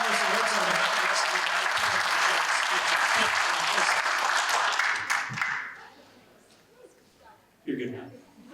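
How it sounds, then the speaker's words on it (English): Audience applause for a band at a festival of the arts concert, loud dense clapping that fills the first five seconds, then fades into quieter crowd sounds with a brief renewed burst near the end. "you have to soak in enough applause for the whole band that isn't here right now, so give it to them"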